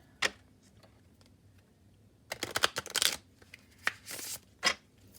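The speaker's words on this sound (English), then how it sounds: "I'm going to do a couple of hard shuffles." A small deck of 30 tarot cards being hard-shuffled by hand, giving crisp riffling and flapping bursts in short clusters after a single early snap, close and fairly loud in a quiet room.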